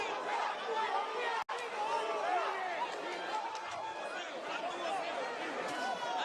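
Dense babble from a large boxing crowd in a Las Vegas arena during the Pacquiao vs Ugas fight, a steady wash of many voices holding at even loudness, with one abrupt momentary dropout partway through.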